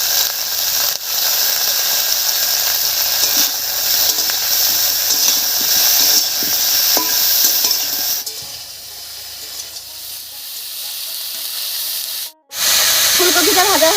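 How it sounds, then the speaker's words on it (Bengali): Cauliflower frying in oil gives a loud, steady sizzling hiss close by, easing off partway through and then briefly cutting out before resuming. "ফুলকপিটা ভাজা হতে থাক,"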